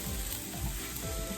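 Soy sauce hits canned salmon fried rice in a hot pan, a loud, steady crackling sizzle with faint scraping of stirring throughout the brief moment.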